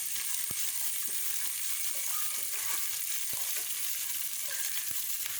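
Onions, with a cut tomato, are sautéed and stirred in a pan, a soft steady sizzle broken by a few sharp ladle taps and scrapes at irregular intervals, fairly quiet with no talking.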